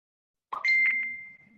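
A smartphone chimes once for an incoming text message, a bright ringing tone that sustains for about a second and then fades, heard alone against silence.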